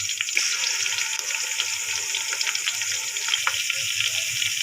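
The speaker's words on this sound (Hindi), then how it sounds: "प्याज हमारे ब्राउन हो चुके हैं। अब हम डालेंगे 1 चम्मच लहसुन अदरक का पेस्ट।" Garlic ginger paste frying in oil with browned onions for an aloo matar pulao, a steady close sizzle and crackle running throughout with faint stirring, no talking.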